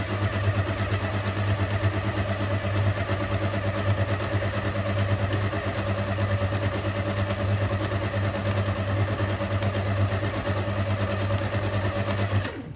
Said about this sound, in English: we're just mixing until the flour is incorporated on a low speed